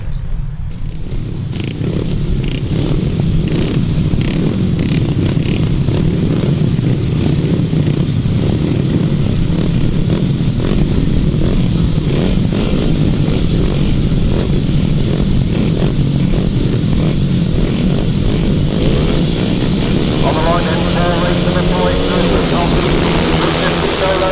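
Grasstrack 350cc motorcycles launch from the start of a race at Tallington, a loud, sustained roar of many engines revving together, with a crowd-level din and a rising buzzing note toward the end.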